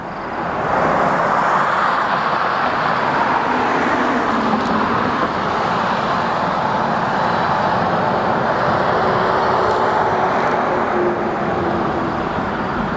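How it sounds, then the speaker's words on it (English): A truck passes on the road below a high vantage point, a loud, sustained broadband roar of engine and tires that holds steady for several seconds with no voices. "I think I got a truck coming here."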